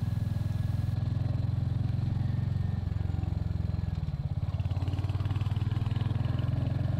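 A Royal Enfield Hunter motorcycle being ridden on a climbing country lane, its single-cylinder engine thudding in a steady low rhythm with a brief change in pitch midway, close and continuous, no voices.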